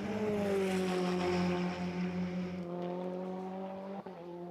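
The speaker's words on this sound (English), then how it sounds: "There's Brandon Davis in that number 4, currently leading away." Saleen Cup race cars at Portland in 2019, a loud steady engine drone with strong harmonic whine that holds for several seconds and eases slightly near the end, with no talk.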